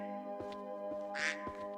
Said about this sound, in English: You can hear the quacking of the ducks.